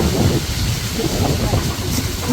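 Steady rain falls during the rainy season, a dense, continuous hiss with a low rumble underneath, loud and unbroken throughout.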